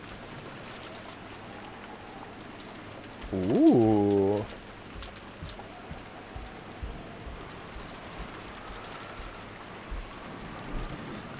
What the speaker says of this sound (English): Rose's mumbling voice didn't reach the person in question, nor any of the kids, but disappeared beneath the sound of the rain.